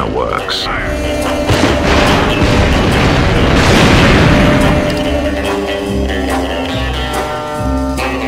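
Video game fireworks burst and crackle in a dense, loud barrage, rumbling low with sharp pops over a continuous roar.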